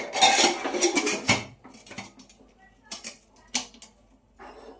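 Metal clanks and clinks as the whistle and gasket come off a pressure cooker lid in a home kitchen: a busy burst of rattling at the start, then a few sharp, separate knocks, close by and fairly quiet.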